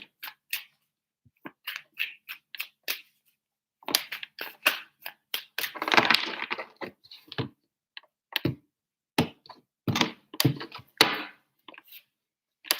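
Tarot deck handled and shuffled in irregular bursts of soft papery flicks and taps with gaps of silence between, close and quiet with no talking.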